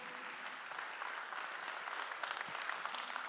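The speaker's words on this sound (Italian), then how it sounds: "facciamo un bel applauso" Audience at a Sardinian folk song and music festival in Tonara applauds the choir director, a steady, dense wash of many hands clapping throughout, moderately distant and even, with no voices over it.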